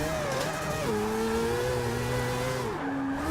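A Mitsubishi Evo races past in Forza 6, its engine note droning steadily with harmonics that slide downward as it goes by, a loud sustained whine over the continuous roar of other racing car engines.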